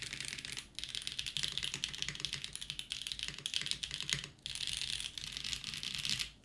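Steady typing on a mechanical keyboard with GMK-like keycaps on a Geon Frog TKL 8K build, a fast continuous stream of close keystroke clacks with two brief pauses.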